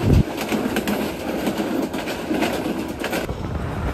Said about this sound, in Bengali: এই মুহূর্তে আমাদের কোন ট্রেনের সাথে ক্রসিং হচ্ছে অবশ্যই কমেন্ট করে জানাবেন